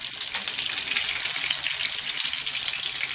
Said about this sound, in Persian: شنسلای ما یه طرفش سرخ شد، برمیگردونیم تا طرف دیگرش هم سرخ بشه